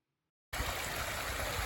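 A flowing stream on Efate Island, Vanuatu, cuts in abruptly after a moment of silence and then rushes on as a steady, dense wash of running water, close and continuous.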